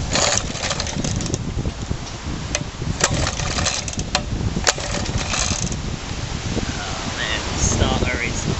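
A Suffolk lawn mower's small engine running steadily just after its first cold start, a continuous near rumble with faint mechanical clatter and a few sharp clicks, while someone briefly speaks.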